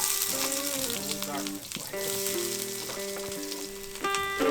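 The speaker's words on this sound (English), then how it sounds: "we're doing some stir fried veggies to go along with our stir fried heart" Vegetables stir-frying in a wok with a steady, loud sizzle throughout, while tonal music plays over it.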